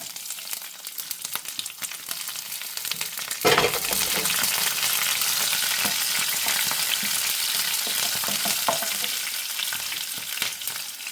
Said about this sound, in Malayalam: ഇഞ്ചിയും വെളുത്തുള്ളി പച്ചമുളകും നന്നായി ഒന്ന് വാടി വരട്ടെ.